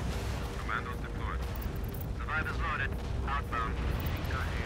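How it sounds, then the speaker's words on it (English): Deep, continuous booming rumble of artillery fire in the video game EndWar, with distant explosions rolling under a steady battle din and radio-style voice chatter. "Keep your artillery rolling."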